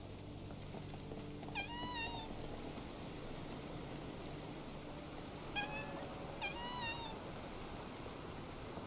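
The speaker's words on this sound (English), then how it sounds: "I'm hearing a cat." A cat meows in the video game Infinity Nikki, one short meow early on and then two more a few seconds later, clear over a steady soft ambient wash like flowing water.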